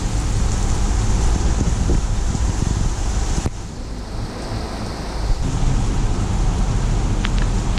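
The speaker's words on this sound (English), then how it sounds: "Damn, I love it when it rains." Rain falls steadily outdoors in Singapore, producing a dense, broadband hiss and patter that stays loud throughout with slight shifts in level and no voices.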